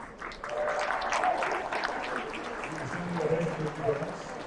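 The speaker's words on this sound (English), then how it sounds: "Another round of applause." Applause for high school musicians rises from the audience at an evening gala, a fairly quiet, diffuse clapping that runs throughout while the master of ceremonies talks over it.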